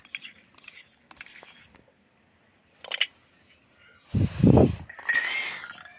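A lid goes back onto a pot of dal. A few light metallic clinks and taps come first, then a louder rattling clatter, close and brief, with a softer knock afterward.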